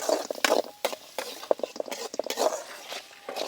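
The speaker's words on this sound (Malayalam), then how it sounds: "അതോടൊപ്പം തന്നെ നമുക്ക് കുറച്ച് കരിയാപ്പില ഇട്ട് കൊടുക്കാം ഒന്ന് ഇളക്കി നന്നായിട്ടൊന്ന് വാടി വരട്ടെ" Curry leaves and onions stirred in a pan for a Kerala thoran, with a spoon scraping and clinking against the metal in quick irregular strokes under a soft background sizzle.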